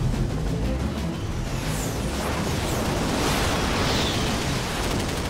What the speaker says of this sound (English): 30-millimeter cannon tracers rip through the sky.